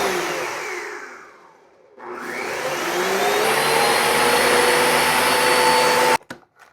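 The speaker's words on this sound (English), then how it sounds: "Blend it on high. You want it nice and smooth." A countertop blender runs on high speed, pureeing soaked millet into a smooth liquid batter for gluten-free bagels; a loud steady motor whine dips briefly, surges back up and holds constant, then cuts off abruptly near the end.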